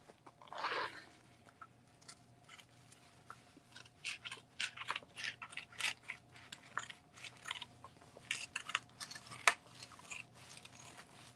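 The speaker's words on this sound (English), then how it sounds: "I'm just going to cut away the excess" Scissors snip away the excess from a rhinestone template for a denim bling project, giving a string of crisp clicks and crunchy cuts, close and uneven in rhythm, with no voices.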